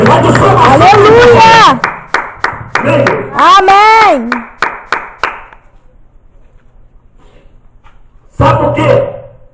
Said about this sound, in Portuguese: Dá uma salva de palmas para Jesus Cristo.